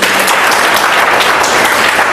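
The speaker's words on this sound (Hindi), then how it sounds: "अपने लिए ताली बजा लो, आप सब लोग स्टूडेंट हो।" Seated audience of students at a motivational seminar breaking into dense, loud applause, a continuous burst of many hands clapping close by.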